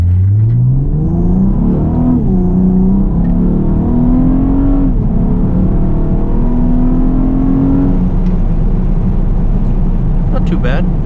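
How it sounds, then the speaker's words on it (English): A 9th gen Honda Accord running on E85 accelerates hard in drive, its engine note climbing steadily through the gears with brief dips at the shifts, loud and close inside the car over a constant road rumble. "I'll do a little baby pull right here, nothing crazy. Just do it in drive, traction control on."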